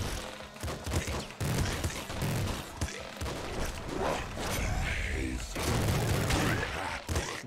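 Rapid bursts of gunfire crackle in quick succession with thumping impacts in the game Nuclear Throne, fairly quiet and mixed with other game noise.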